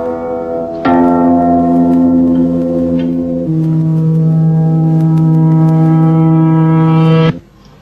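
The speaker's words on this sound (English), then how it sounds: "Now we've turned the last note the wrong way round. We've got the decay first. Now it's become a wah sound." Tape-spliced sustained tones: a bright bell-like note is followed by a deeper one played in reverse, so it swells up into a loud wah before cutting off sharply, with no voices.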